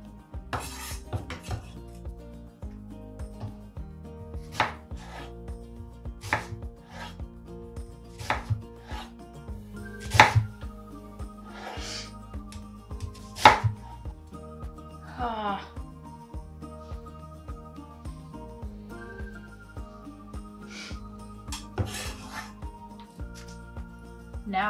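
Two medium onions are chopped on a board, giving a long run of irregular knife taps and scrapes, mostly steady with a few louder hits, amid soft kitchen clatter and occasional talking.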